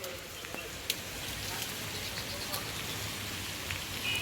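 Steady rain falls outdoors around a palace site, a dense broadband hiss with scattered drops and a faint sharp tick, continuous and fairly close throughout.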